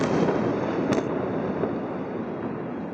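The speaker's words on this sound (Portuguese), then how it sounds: "A gente ouve aqui o som das explosões." Explosions sound outdoors as a deep, sustained rumble that slowly fades, with one sharper crack near the start and no voices.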